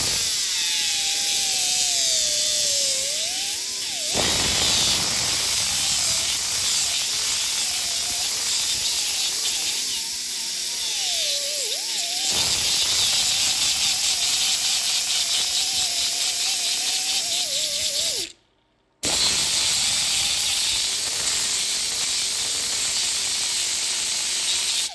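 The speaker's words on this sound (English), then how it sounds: "I hate making grinding noises" An angle grinder scours goo off the body of a 1969 Mustang, making a loud, continuous abrasive hiss and whine whose pitch wavers as pressure changes, with a single brief cut-out near the end.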